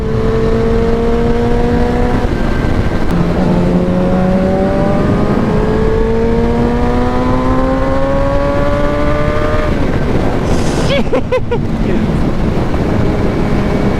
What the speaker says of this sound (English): There is no point where this bike just like stops pulling.